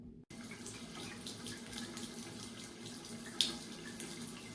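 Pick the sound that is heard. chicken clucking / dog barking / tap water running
tap water running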